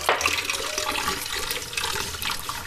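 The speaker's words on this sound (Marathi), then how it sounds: "आता ह्यो आपण नळाखाली स्वच्छ धुवून घेऊया" A new stone mortar and pestle being rinsed under a running tap, a close, continuous rush of water splashing over stone with slight surges, no voices.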